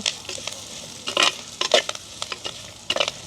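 Onions, green chillies and garlic sizzle faintly in oil in a pan while a utensil stirs and scrapes in short bursts, close and without talk.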